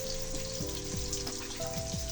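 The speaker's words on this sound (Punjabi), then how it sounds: "ਉਹਨੇ ਦੇ ਪਾਈਟ ਦਾ ਪਿਆਜ਼ ਇਹਨੂੰ ਹੁਣ ਤੜਕਾਣੇ ਆ ਥੋੜਾ ਜਿਹਾ ਤੜਕ ਜਾਏ ਆਇਲ ਦੇ ਵਿੱਚ" Onion frying in hot oil gives a continuous close sizzle. Faint tonal background sounds run underneath.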